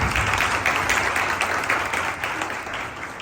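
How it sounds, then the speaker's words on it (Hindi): A church congregation applauding: steady, dense clapping from many people filling the room, loud and continuous before tapering slightly at the end. "एक दफा फिर जोरदार तालियां करें"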